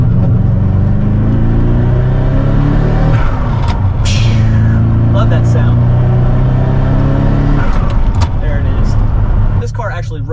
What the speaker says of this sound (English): when we get it up in the RPMs, you can hear that turbo kick in.